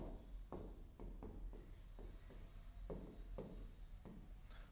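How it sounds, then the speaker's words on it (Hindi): Pen or marker writing out a standard-form quadratic equation on a board, a series of short, distinct stroke scrapes spaced about half a second apart over a steady low hum. "यहां पे लिखेंगे स्टैंडर्ड फॉर्म।"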